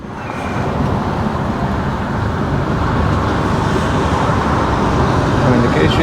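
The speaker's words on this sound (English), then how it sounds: "Traffic going in to do their weekly shop." Steady road traffic on a South East London street heard from inside a vehicle, a dense continuous rumble and road roar that stays loud and even throughout.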